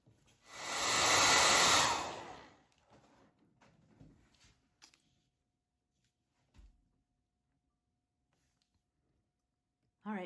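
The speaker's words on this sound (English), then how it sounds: "Use the blow dryer, and I'm going to dry this" A handheld blow dryer runs for about two seconds, drying a watercolor painting of an oak leaf, then cuts off. Faint clicks and handling noises from the tabletop follow.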